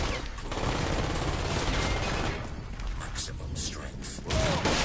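Gunfire rattles continuously in a Crysis Warhead firefight, dense overlapping bursts and thuds filling the scene, with a brief spoken line over the shooting.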